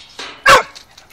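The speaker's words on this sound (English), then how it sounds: "Oi, stop barking. Oh, don't bark at him." A Staffordshire Bull Terrier lets out one sharp, loud bark close by, framed by softer whines and yips before and after.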